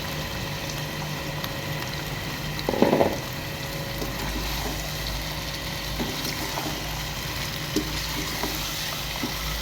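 About a kilogram of beef fries in a pan for Lucknowi kate masala gosht, making a steady, soft sizzling hiss with a brief clatter partway through and no talk.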